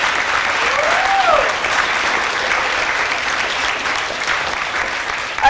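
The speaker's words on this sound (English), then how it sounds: "Could we have a round of applause for the voters of California?" A crowd at an interfaith gathering gives a sustained round of applause for California's voters after the Prop 8 vote. The clapping is dense and steady throughout, with a brief cheer or whistle rising above it early on.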